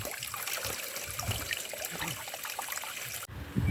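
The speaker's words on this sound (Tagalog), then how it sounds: "Meron tayong nadaan ng bukal." Water from a natural spring trickles and gurgles steadily at close range beside an outdoor trail, a continuous bubbling flow with no one talking over it.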